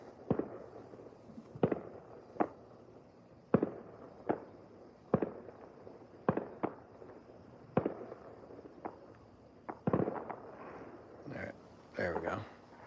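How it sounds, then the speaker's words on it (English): Distant New Year's Eve fireworks heard from a balcony, a long irregular series of sharp cracks and booms spaced a second or so apart, moderately loud over steady background hiss, with a brief crackling burst near the end. "We got some fireworks right there."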